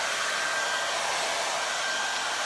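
A hair dryer blows hair out for a salon-style blowout at home, a steady close whooshing roar with an even airy hiss and a faint high whine, unbroken and without talk.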